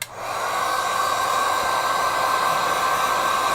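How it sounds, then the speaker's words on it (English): A hair dryer drying a watercolor painting, switching on and then blowing as a loud, steady, close whirring hum with no talk. "I'm just going to use the dryer again."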